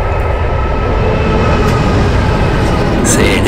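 The Ghan passenger train passes at Dry Creek on its run from Darwin via Alice Springs to Adelaide, a loud continuous roar of engine and wheels close by, with a faint voice under it.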